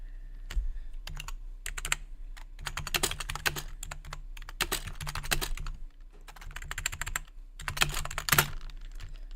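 Rapid bursts of typing on a computer keyboard, clustered key clicks arriving in uneven runs separated by short pauses, close and fairly steady, with a low constant hum beneath.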